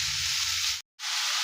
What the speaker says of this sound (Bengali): আগে একটু ভাজা ভাজা করে নিই।